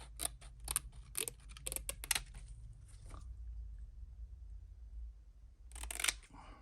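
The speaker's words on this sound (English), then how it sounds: "I usually cut one side all the way down so I can get it up in tight places on my baits." Scissors snip through a paint stencil for a fishing bait, a run of crisp close cuts in quick succession, a pause with faint background hum, then a final cluster of snips.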